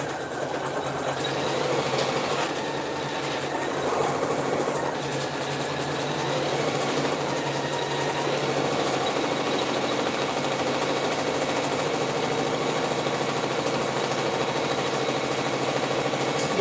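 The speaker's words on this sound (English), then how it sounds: "Now what this is going to do is sew this satin stitch around the edge here." Embroidery sewing machine stitching a satin stitch around the edge of a clutch in the hoop, a fast continuous mechanical whirring hum that holds steady and close throughout.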